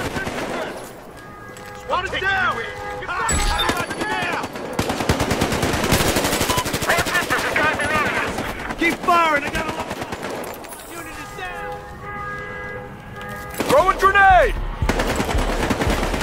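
Automatic gunfire in the video game Battlefield Hardline, long loud bursts of rapid shots, with someone talking over them at the start and again near the end.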